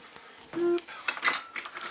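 Fried rice sautéing in a pan, heard as a few soft scrapes and metallic clinks of a utensil against cookware over a low sizzle, close and fairly quiet, with no talk.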